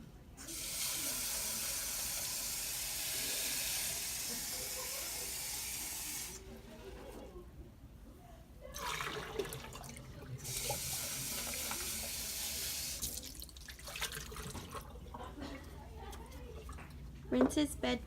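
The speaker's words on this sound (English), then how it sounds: "Rinses measuring container and pours rinse into toilet." Tap water runs into a measuring container for rinsing in a care setting, a steady hiss in two long bursts broken by pauses, then a brief splash as rinse water is poured into a toilet, with a voice narrating throughout.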